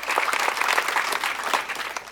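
Dense applause from a Hindi poetry recital audience, steady and lively throughout the short stretch, with no voices over it.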